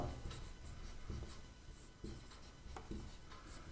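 Steady writing strokes on paper or a board during a Class 10 maths lesson, with short scratchy marks in a continuous rhythm, close and clear, and no talking.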